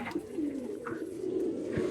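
Pigeons cooing in a Madrasi pigeon loft, a soft continuous rolling coo from nearby birds with a couple of short sharper calls over it.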